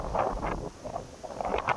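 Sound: wind blowing through a tree

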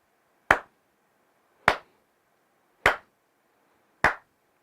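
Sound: hand clap test of Saramonic UWMIC9S microphone latency

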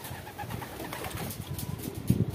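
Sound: pigeons cooing

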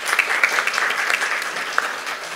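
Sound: applause

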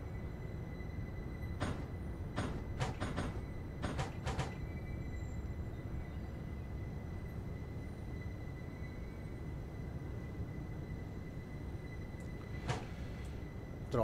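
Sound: train arriving at Frankfurt station in Train Simulator Classic video game

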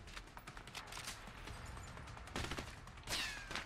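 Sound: gunfire in video game A Way Out

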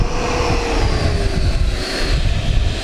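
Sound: Hobbyzone F-15 twin 64mm EDF RC jet

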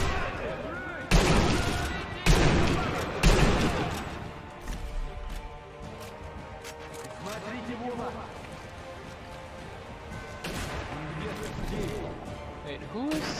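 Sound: gunfire in video game Sniper Elite V2

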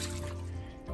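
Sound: water poured out of a travel mug

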